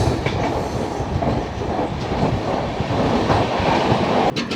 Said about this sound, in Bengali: আমাদের ট্রেন ওই জায়গাটায় যাবে